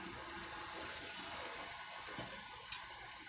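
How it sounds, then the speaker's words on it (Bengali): Broth pours into a pan of fried onions for a sea bata fish curry, making a steady, faint, rushing liquid splash with a few small clinks, no voices. "দিয়ে দিলাম আমরা ঝোল,"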